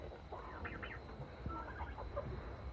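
Free-range chickens settling into their coop at night give soft, quiet clucks and murmurs over a steady background hiss.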